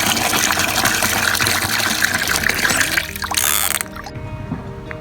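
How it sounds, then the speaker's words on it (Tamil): Water pours and gushes into cow dung in a container, a loud splashing stream for about three seconds that breaks off into softer trickles and drips. "ஒரு பங்கு சாணத்துக்கு 10 பங்கு தண்ணி கரைச்சிக்கிறோம், தண்ணி ஊற்றி கரைச்சிக்கிறோம்"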